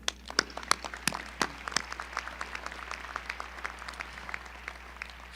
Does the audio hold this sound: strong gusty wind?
no